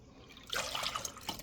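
Filtered water pours briefly into a mixing bowl for fry bread dough, a soft splashing trickle that starts after a quiet moment and lasts about a second.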